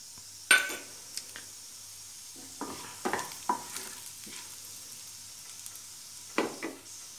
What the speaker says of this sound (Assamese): এয়া তেল গৰম হৈছে এতিয়া মই জিৰা দি দিছোঁ